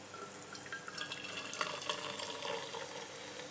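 Hot Coca-Cola being poured into a thermos for descaling, a steady bright liquid pour with splashing and bubbling throughout, fairly close and moderately quiet, with no one talking.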